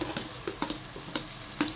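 Cumin seeds fry in hot oil, giving faint, scattered crackles and spitting pops over a soft background sizzle.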